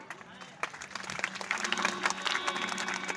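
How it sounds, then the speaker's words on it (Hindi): Ram Leela audience clapping during a Ram Navami celebration, a steady wash of hands building from sparse claps to fuller applause, with voices mixed in underneath. "ये तालियां बजी तो जबरदस्ती की बजी,"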